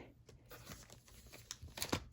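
A box of Pixie Snaps is opened, bringing faint crinkling and tearing of cardboard and plastic with several short rustles close by, loudest near the end.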